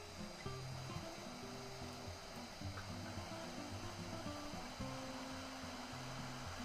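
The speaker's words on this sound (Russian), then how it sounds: "Как слышите, запустился у меня фен." A hot air soldering station set to 400 degrees blows steadily while heating a microchip, giving a continuous soft airy hiss with faint tonal hums underneath, fairly quiet throughout.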